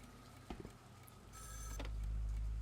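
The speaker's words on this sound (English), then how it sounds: "Answer the phone then" An old-fashioned telephone rings in the Call of Cthulhu horror video game, a short electronic bell trill, while a low rumbling ambient drone swells underneath.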